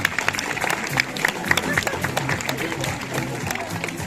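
A zoo audience applauds a sea lion show, a continuous patter of many hands at moderate distance under a presenter's amplified voice and crowd murmur.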